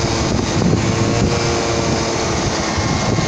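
Wind buffeting a microphone on a selfie stick while riding a motorcycle, a loud continuous rumbling roar with an engine drone mixed underneath and no voices.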